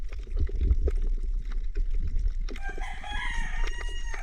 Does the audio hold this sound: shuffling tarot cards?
no